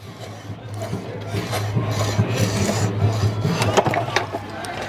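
Small rasping cuts into a hard spot of wood clamped in a vise, a steady scraping, filing texture with a low hum underneath, close and continuous for several seconds.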